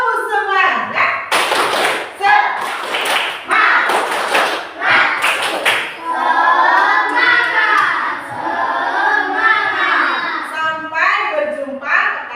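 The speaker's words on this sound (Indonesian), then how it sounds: "Coba tepuk semangat." A school class does a rhythmic spirit clap, bursts of sharp group clapping in patterned beats alternating with children's voices chanting and a teacher speaking.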